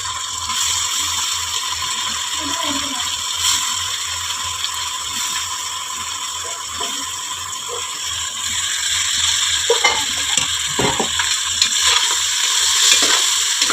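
Herbs and tomatoes for chicken biryani sizzle and crackle in a hot pan with occasional stirring scrapes, a steady frying hiss throughout that grows slightly louder toward the end.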